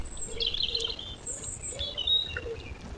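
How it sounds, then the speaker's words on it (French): Birds chirp and sing in repeated bursts outdoors, picked up by a GardePro E5S trail camera at a muddy wildlife wallow, with a steady low background rumble. "On entend aussi bien l'eau que le chant des oiseaux"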